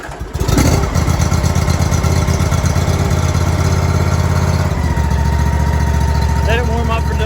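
A Hustler Raptor zero-turn riding lawn mower engine starts and settles into a loud, steady, throbbing idle close by, with a brief change in tone partway through.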